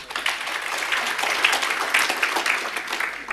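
Applause fills a church during a sermon, a dense, steady wash of many hands clapping at close range that holds for about three seconds with a few sharper claps standing out.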